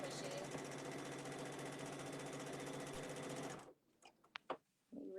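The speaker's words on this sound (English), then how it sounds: "A little out of practice doing it on a domestic machine." A domestic sewing machine doing free motion quilting runs in a loud, fast, steady mechanical chatter for several seconds, then stops abruptly, followed by a few soft clicks and handling noises.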